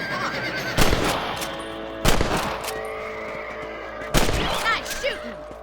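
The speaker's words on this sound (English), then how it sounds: "Better at shooting rabbits than outlaws, I see." Three loud rifle shots in the video game Red Dead Redemption, fired at rabbits about a second apart, each a sharp blast with a ringing tail over steady game ambience.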